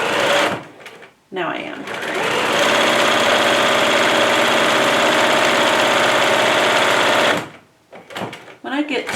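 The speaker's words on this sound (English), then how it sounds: "And I'm just going to sew." A sewing machine stitching fabric for a bag, a loud continuous whirring run of several seconds with short stops before and after, while someone speaks briefly around it.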